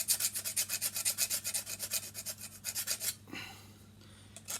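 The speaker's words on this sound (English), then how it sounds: "I'm just going to give that a quick file down" Hand file rasping a burr off a chainsaw chain, a quick run of about twenty rhythmic back-and-forth strokes, close and fairly quiet, ending after three seconds into low background hum.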